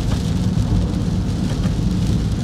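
Steady heavy rain on a moving vehicle during a stormy drive through Junction, St. Elizabeth in southern Jamaica. It is a dense, continuous hiss with a low rumble underneath, loud and close, and no one speaks.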